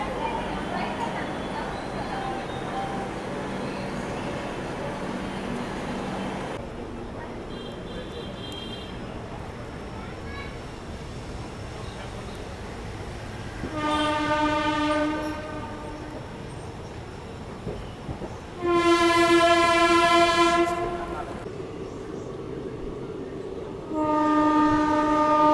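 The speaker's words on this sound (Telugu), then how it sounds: "మన ట్రైన్ అయితే డిపార్ట్ అయింది బేగంపేట నుంచి." The Palnadu SF Express, train 12747, pulls away from a station with a low rolling rumble, then sounds its horn in three loud, sustained blasts. A voice speaks faintly under the train noise early on.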